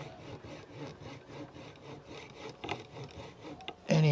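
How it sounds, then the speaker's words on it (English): A coping saw cuts into the wood of a Fender Stratocaster guitar neck during a repair, giving close, rhythmic back-and-forth rasping strokes at a steady pace, followed by a brief louder knock at the end. "Make sure we aim for that coping saw in between"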